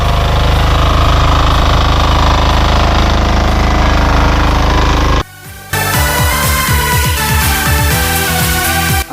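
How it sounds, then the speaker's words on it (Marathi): A farm machine working a field of planted potato beds, spreading soil onto the raised beds: a loud, steady mechanical engine drone that cuts out briefly, then resumes with a rougher, pulsing rhythm. "आपण मशीनने माती बेडवरती टाकतोय."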